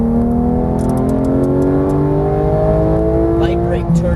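A GT3 race car powers back onto the throttle during a lap, its engine rising loud and steady in close onboard perspective, while a voice briefly coaches over the top.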